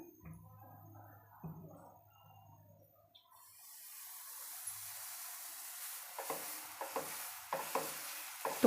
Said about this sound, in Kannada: ಈಗ ದೋಸೆ ಹಾಕ್ಕೊಳ್ತೀನಿ